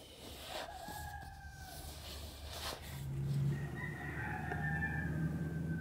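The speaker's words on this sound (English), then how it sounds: "The roosters are roostering." Roosters crow in the distance in Baja over a steady outdoor background hum, their drawn-out calls rising and falling, one overlapping another toward the end.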